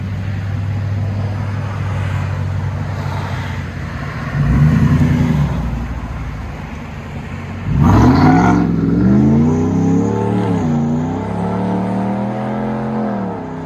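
A 2022 RAM 1500 Rebel pickup with a 5.7L HEMI V8 and Dynomax Bullet mufflers idles with a deep rumble, then revs twice, the second rev loud and sustained before settling back down.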